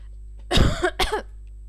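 A person coughs twice in quick succession, harsh and close, the first longer and rougher than the second, with quiet hum around it.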